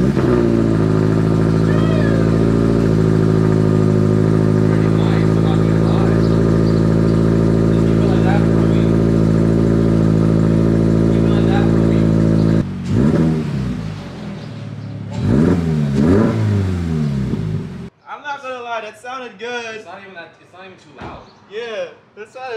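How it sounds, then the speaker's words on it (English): 2022 Subaru BRZ with a muffler delete, cold-started and then held at a loud, steady raised idle, followed by several sharp revs and throttle blips rising and falling, with people talking over the engine near the end. "Time to do the cold start"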